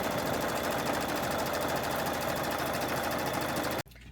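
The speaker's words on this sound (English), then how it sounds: "Begin by stitching a placement stitch in your hoop." Embroidery machine sewing a placement stitch on stabilizer in the hoop, a steady, loud, close mechanical whir of rapid needle strokes that stops abruptly near the end.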